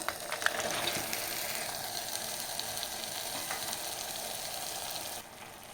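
Tomatoes sautéing in oil for peanut kuzhambu give off a continuous, even sizzle with faint stirring clicks. The sound is close but soft and drops away just before the end, and no one speaks.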